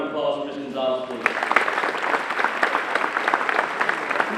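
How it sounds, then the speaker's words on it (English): Guests at a high school football banquet give a round of applause for Ms. Gonzalez, clapping steady and fairly close after a short stretch of a voice at the start. "Another big round of applause for Ms. Gonzalez, please."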